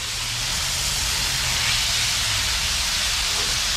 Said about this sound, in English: let's get this chicken on and get it cooking